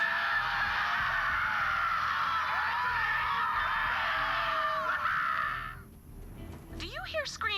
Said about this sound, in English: Do you hear screaming, or am I having another one of my episodes?